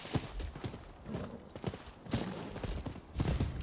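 Horse hooves clip-clop in a quick, uneven rhythm in the video game Rise of the Ronin, moderately close, with a faint background hum and no talking.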